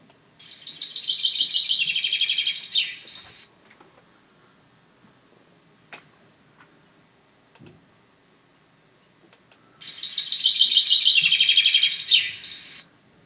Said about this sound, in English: That one is the chaffinch